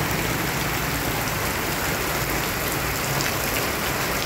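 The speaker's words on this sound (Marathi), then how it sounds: "असा जोराने पाऊस चालू झालाय." Heavy morning rain pours down in a dense, steady hiss of drops on surfaces, loud and unbroken throughout with no other sounds.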